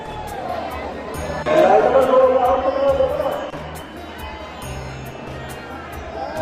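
A crowd of people gathers at a temple in Rajasthan at night, giving a continuous murmur of chatter with nearby voices that swell loudly for a couple of seconds before settling back.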